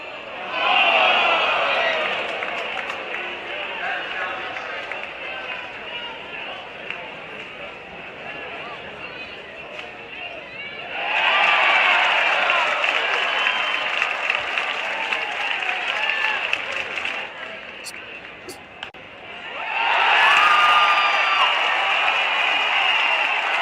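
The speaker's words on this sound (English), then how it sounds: "you heard the awe because the call was so bad. Then you hear the cheering when the call's reversed" A baseball stadium crowd reacts to a bad call later reversed: a loud roar of noise, then a quieter murmuring stretch, then two more loud bursts of cheering, with speech mixed in.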